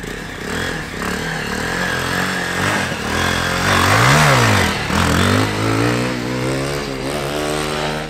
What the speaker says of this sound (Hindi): एक बार फिर से मार के आपको मैं दिखाता हूँ व्हीली, सेकेंड अटेम्प्ट